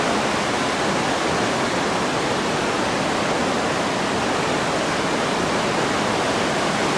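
Water rushes steadily through a mountain canyon, a loud, unbroken broadband roar like a waterfall or fast stream, continuous for the whole stretch with no voices.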